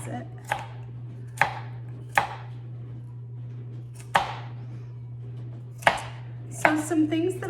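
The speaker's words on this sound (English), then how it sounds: "now I'm gonna slice it" A knife slicing through produce on a cutting board, about eight crisp separate cuts at an uneven pace over a low steady hum, close and fairly loud, with no speech.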